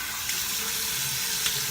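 Water runs steadily from a bathroom tap for a post-shave rinse, a constant bright splashing hiss heard up close with no voices.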